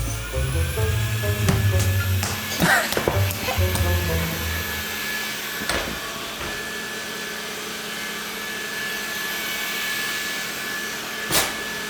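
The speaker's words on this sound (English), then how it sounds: "We got this new awesome robot vacuum cleaner." A robot vacuum cleaner runs in a home with a steady whirring drone, broken by a few sharp clatters and bumps in the first seconds, with no talking.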